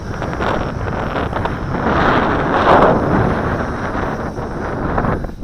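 Strong gusting wind buffets the microphone while a JJRC H12C quadcopter drone flies outdoors, a loud rumbling roar that swells and eases across several seconds with no voices.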